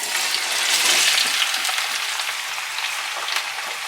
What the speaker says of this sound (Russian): Морковь и лук периодически помешиваем.